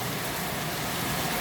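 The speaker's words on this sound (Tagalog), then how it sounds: "Pinaparinig ko lang sa inyo ang ulan." Heavy rain falling in South Korea during a July downpour, a dense, steady hiss of rainfall with no breaks, filling the scene evenly and heard alone without voices.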